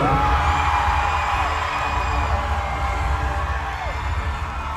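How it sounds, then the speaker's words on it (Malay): A crowd at a prize-giving ceremony for a Randavi Tavantang final roars steadily for Ranau, with loud, sustained cheering, yells and whoops running throughout without a break. "Dan mana sorakan untuk Ranau?"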